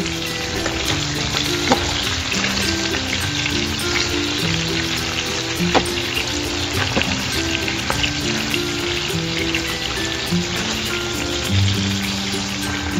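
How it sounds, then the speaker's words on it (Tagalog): Chicken pieces for a homemade chicken curry with potatoes fry in a pan, giving a steady, close, loud sizzle and crackle throughout with occasional stirring scrapes, no voices. "bakit ko siya ni-fry ng mga 5 minutes?"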